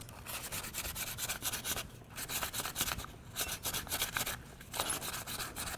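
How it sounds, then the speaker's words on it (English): Sandpaper, 220 grit, rubbed by hand over a fishing lure being restored, giving close, steady scratchy back-and-forth strokes with brief pauses between passes. "You want to just keep on sanding just like you're going there?"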